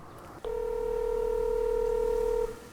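A single long, steady dial tone sounds from a phone on speakerphone while a call is placed, clear and alone for about two seconds.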